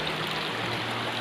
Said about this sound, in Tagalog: Pero dito ay mahangin at sarap pakinggan ang mga agos ng tubig.